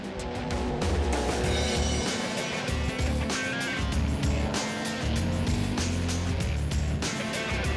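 A Volvo 240 Turbo race car engine revs hard and roars close by, with rising and falling pitch and bursts of tire noise as it drifts on a track.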